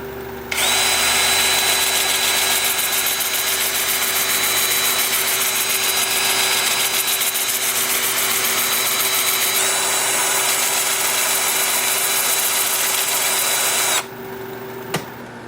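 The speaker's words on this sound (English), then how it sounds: "Then with the lathe spinning in reverse at about 350" Wood lathe turning in reverse at about 350 rpm with a tool working the spinning wood, a steady loud whir and scraping that runs unbroken for most of the clip before cutting off near the end.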